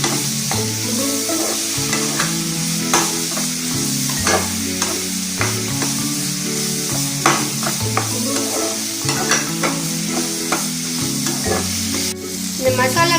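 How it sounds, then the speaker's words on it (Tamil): Capsicum sautéing in a hot pan for a paneer keema dosa masala, a loud, steady sizzle and fry with repeated scraping stirs across the whole stretch, close and continuous, with no talking. "இதையும் நல்லா வதக்கிட்டு அப்புறம் இதில் மசாலா ஆட் பண்ணிக்கலாம்."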